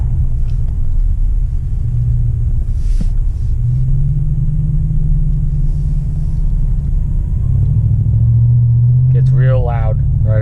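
Exhaust rumbles from a 2020 Chevy 2500 with the 6.6 gas engine and MBRP exhaust, rising in two close, loud revs over a steady idle, with someone talking briefly near the end.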